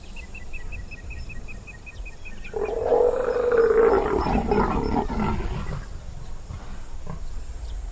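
Leopards mating with a loud, aggressive display: a harsh, rasping roar-like snarl swells up near and loud for several seconds, then fades, with insects chirping softly in the background before and after.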